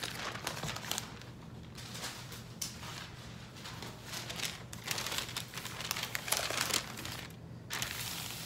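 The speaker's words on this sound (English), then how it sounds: "they give you a few pieces of butcher paper, so you can put another piece" Sheets of butcher paper rustle and crinkle steadily as they are laid over a T-shirt for a Cricut Infusible Ink heat transfer, close-up paper handling with no voices.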